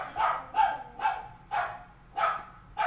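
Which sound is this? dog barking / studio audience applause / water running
dog barking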